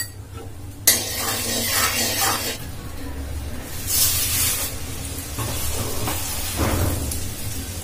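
Turmeric and salt frying in oil in a kadhai for Vidarbha-style chivda: a steady sizzle starts with a sharp onset and stirring scrapes recur across the pan, with a quiet voice faintly beneath.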